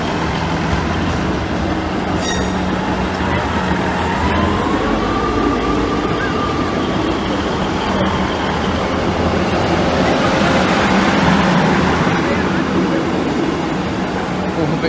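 A passenger train rolls through the Lincoln High Street level crossing, a steady rumble of wheels and carriages with a faint squeal, building louder toward the end, with voices talking over it.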